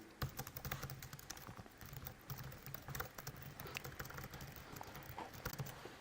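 Fingers type steadily on a computer keyboard while a blog article is written, a continuous close run of quick key clicks and taps with no talking.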